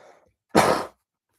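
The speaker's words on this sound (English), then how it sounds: "I still need to cough again" A single loud, close cough burst of about half a second, heard alone after a brief faint breath or murmur.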